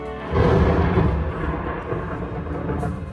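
A rumbling thunderstorm effect rolls through a museum flood exhibit, a deep sustained roar that swells loudly after a brief quiet start and then lingers at a steady, slightly lower level.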